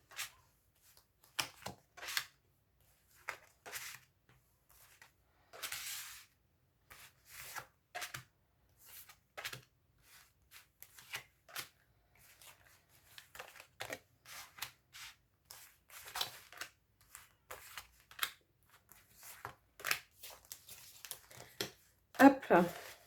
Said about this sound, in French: Donc, je vais étaler les cartes.